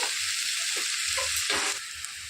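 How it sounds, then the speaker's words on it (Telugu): A generous heap of sliced onions sizzles in hot oil for a spicy capsicum egg masala curry, a loud continuous crackle close by with bursts of stirring and scraping. "దోరగా వేయించేసుకోవాలండి కొద్దిగా ఉల్లిపాయలు ఎక్కువగానే పడతాయండి"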